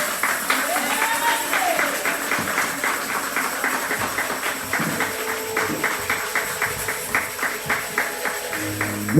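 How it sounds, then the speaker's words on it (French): Applause from a church congregation during a French and Italian bilingual service, a steady wash of clapping lasting throughout, with voices and crowd murmur mixed in. "Cette acclamation-là, Questi applausi. c'est pour le pasteur."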